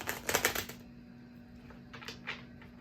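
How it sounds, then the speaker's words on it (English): A deck of tarot cards being shuffled by hand, a quick burst of riffling flutters at the start, then a pause and two softer shuffles, close and fairly quiet. "me shuffle them real good"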